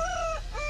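A rooster's crow used as a sound effect in a children's story, one short clear call with a rising and falling tone, alone with no voices.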